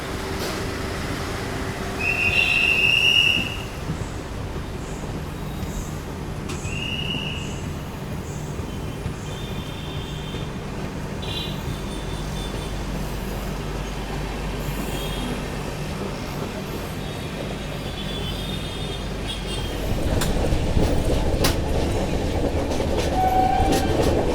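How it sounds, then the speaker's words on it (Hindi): A 22159 Chennai Express pulls out of Perambur station, its cars rolling on the rails with a steady, close rumble and clatter; a brief, high horn-like tone sounds near the start, and the roll grows louder toward the end. "चलिए, निकल चुके अपनी ट्रेन पेरम्बूर रेलवे स्टेशन से, डिपार्टेड फ्रॉम पेरम्बूर।"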